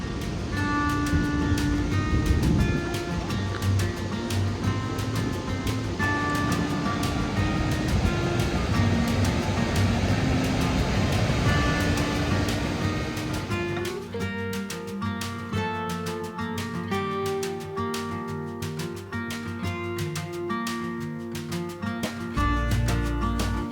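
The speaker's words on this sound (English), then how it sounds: "This is a pretty cool waterfall." A steady, full rush of falling water from a waterfall in northern Oregon roars continuously, broad and unbroken, with music becoming more prominent in the latter half.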